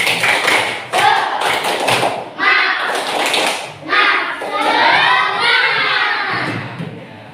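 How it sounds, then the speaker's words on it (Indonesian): A school class doing a rhythmic spirit clap, bursts of children's clapping and patterned taps in repeating groups, mixed with children's shouting and chanting voices, loud and close. "Nah, tepuk semangat."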